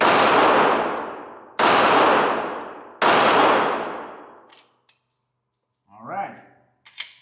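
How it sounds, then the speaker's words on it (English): A Glock 26 9mm pistol fires three loud, sharp shots about a second and a half apart, each echo ringing down, followed by faint clinks and a brief murmur. "let's do some final shooting before we try to determine"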